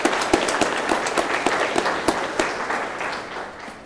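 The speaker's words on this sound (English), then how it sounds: "will you please give these guests a round of applause?" Banquet-hall applause from an FFA audience, a dense burst of many hands clapping close and loud that slowly thins and fades over a few seconds, with no one speaking.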